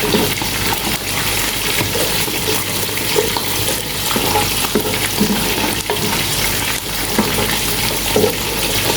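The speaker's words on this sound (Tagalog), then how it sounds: "Iprito ko na rin guys yung isda para siya." Fish fries in a hot pan with a loud, dense, continuous sizzle and crackle that holds close and steady throughout, with no voices.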